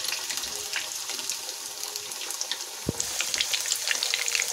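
Potatoes fry in hot oil with a steady, watery crackle, broken by a single sharp knock about two-thirds of the way through as the bubbling carries on.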